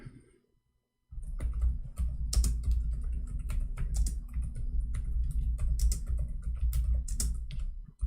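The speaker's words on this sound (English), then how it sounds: "I'm typing Arabic." Rapid, continuous typing on a computer keyboard, close and clearly audible, with dense clattering keystrokes and occasional louder clicks, no talk over it.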